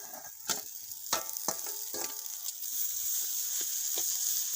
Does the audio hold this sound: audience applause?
no